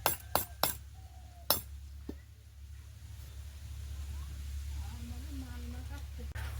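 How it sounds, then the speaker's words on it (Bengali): A hammer beats cut wires flat, giving a few sharp metallic clinks close together near the start, then one more strike, followed by quiet background hum. "এখন বাবা এই যে হাতুড়ি দিয়ে পিটিয়ে পিটিয়ে একেবারে সমান করে দিচ্ছে"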